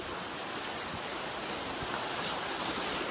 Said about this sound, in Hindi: यहाँ देखिए पानी का फ्लो कितना ज्यादा है